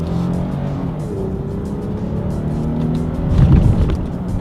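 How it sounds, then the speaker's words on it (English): A 2020 Lexus RX 350 F Sport engine hums steadily from inside the cabin during paddle-shifter gear changes, its pitch dropping and shifting between gears before a brief rise in revs. "let's go ahead and do a quick little paddle shifter test first to see how quickly these paddle shifters react"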